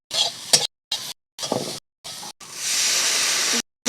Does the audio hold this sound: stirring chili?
yes